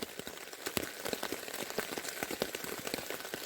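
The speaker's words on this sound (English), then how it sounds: "Still raining pretty good out here." Steady rain pelts a backpacking camp in the mountains during an early morning thunderstorm, a dense close patter of drops with sharper individual hits throughout, no voices.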